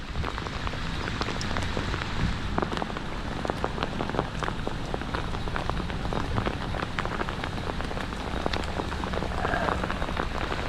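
Hailstones come down steadily and continuously at a fishing spot on rocky shoreline during light rock fishing, a dense pattering on surfaces that goes on without pause at an even loudness, with no talking.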